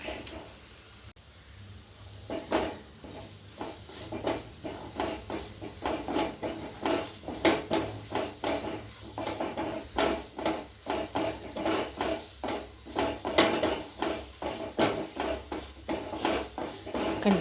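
Tomato curry paste frying in a pan for a chala fish curry, a spoon scraping and stirring in a steady rhythmic pattern over a soft, constant sizzle, close and moderately quiet.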